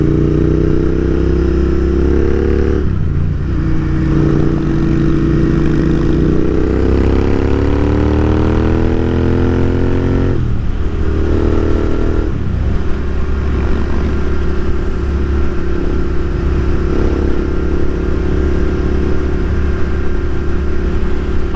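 Royal Enfield Continental GT650 parallel-twin motorcycle engine pulling up through the revs with rising tone, a couple of gear-change dips, then settling into steady loud running close by, with no talk.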